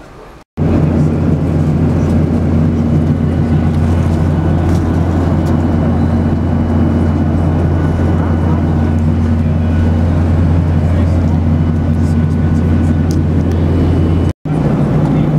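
Steady airliner cabin drone while descending into Gothenburg, a loud constant low hum with a broadband engine roar, unbroken for the whole stretch apart from a brief dropout near the end.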